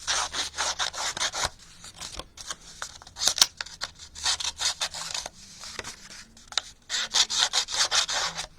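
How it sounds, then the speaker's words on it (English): A paper distresser scratches and rasps along the edges of paper in short bursts of dry scraping, some strokes close and loud, with brief pauses between them. "I'm going to take my paper distresser and just scratch the edges a little bit."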